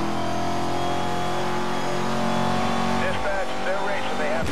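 Car engine and tyres from Need for Speed Most Wanted, sliding through a corner in a drift with steady engine roar and rising whine, tyre noise toward the end, under someone talking.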